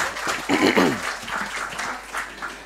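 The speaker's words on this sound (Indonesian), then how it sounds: "boleh beri tepuk tangan untuk beliau" Brief audience applause for a professor at a national dialogue event at an institute in Sukabumi, a short burst of clapping mixed with voices and crowd noise.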